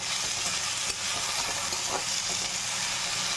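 Potatoes with salt and turmeric are stirred in a hot oiled pan, giving a close, continuous sizzle with soft scraping of the spoon, no voices.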